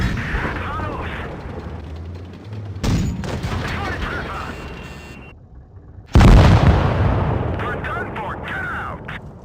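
World of Tanks Blitz tank cannon fire and armour impacts, with loud broadband blasts at about 3 s and 6 s over a continuous game mechanism rumble.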